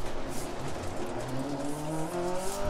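Rally car in Dirt Rally 2.0 skidding through a handbrake turn, with loud continuous tire squeal and engine tones rising over a steady roar, no talk.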